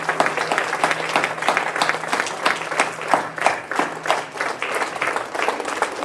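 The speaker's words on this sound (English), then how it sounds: "So give them, all three of them, a big round of applause" Sustained applause from a graduation ceremony audience at Aria University, dense and steady throughout with many overlapping hands and a faint crowd murmur beneath.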